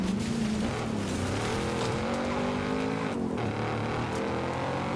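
A Jeep fitted with a Hellcat engine drives hard in Forza Horizon 5, its engine droning loud and close in long gear pulls with a steady roar and faint tire noise.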